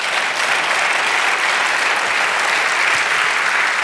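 Church congregation bursting into sustained applause, a dense steady clapping that fills the room at full strength for several seconds without pause.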